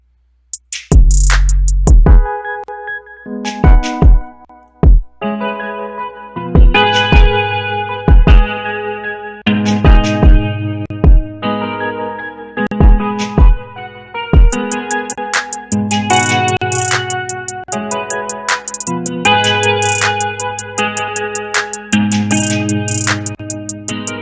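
Hip hop type beat with a layered keys part added, punchy drum hits and chords starting sparse then filling into a continuous loud loop, with no voices.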